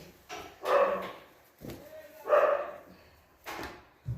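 A dog barks three times with pauses between, fairly close, each bark short and sharp against a quiet background.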